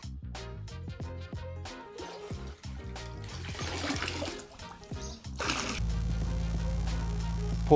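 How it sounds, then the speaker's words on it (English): Rainwater is poured into the pre-filter of a blue bucket, a steady rushing splash that follows a stretch of quieter background sound. "Pour some water into this blue bucket, right into the pre-filter."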